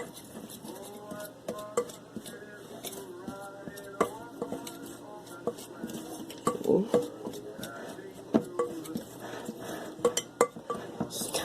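Thick, dry thumbprint cookie dough is stirred in a bowl, giving a run of close scraping and clacking strokes with irregular knocks of the utensil against the bowl's sides, while a voice talks quietly underneath.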